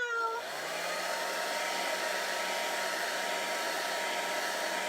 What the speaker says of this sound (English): I put my blow dryer on low